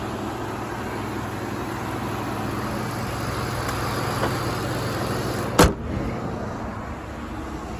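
A 2016 Ford F-150 XL pickup idling quietly without an exhaust, a steady low hum that holds even throughout, broken once by a single sharp click or thump.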